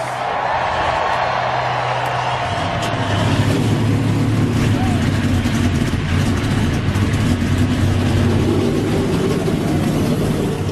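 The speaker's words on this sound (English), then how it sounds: "Drivers, start your engines!" NASCAR race car engines fire up together into a loud, steady roar that thickens after a few seconds and holds without a break.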